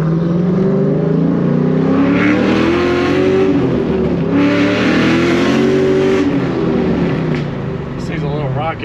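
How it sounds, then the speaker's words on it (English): A Pontiac GTO launches hard from a stop at a traffic light. The engine roars loud and close, revving and climbing steadily through the gears for several seconds with no break. "we might be able to just do a little launch off the line"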